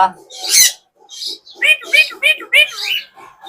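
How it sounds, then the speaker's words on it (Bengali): A young talking myna bird vocalizes in a series of short, harsh, voice-like squawks and warbles at close range, bunched into a rapid run of about five calls after an opening screech. "দেখছেন কিভাবে কথা বলে"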